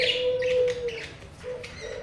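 High, thin chirps from small baby birds kept as pets, close by, alternating with a sustained tonal call.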